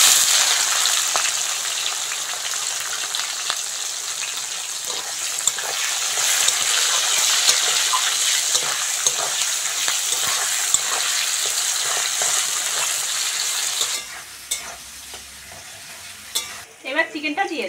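Whole cumin, dried chilli, bay leaf and chopped onion frying in hot oil for a Bengali chicken curry, a loud steady sizzle with stirring that drops off sharply near the end, leaving quieter scraping.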